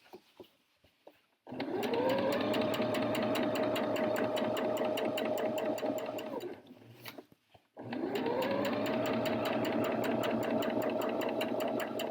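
A sewing machine stitching a jacket seam runs in two long, fast, steady bursts of rapid mechanical whirring and clatter, with a brief pause between them and a few soft clicks at the start, close and with no voices.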